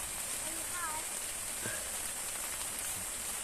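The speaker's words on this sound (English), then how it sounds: "I didn't realise it was going to be raining this heavy" Heavy rain pours steadily in a dense, hissing wash at a campsite near Barnard Castle, with a couple of faint bird chirps barely audible beneath it.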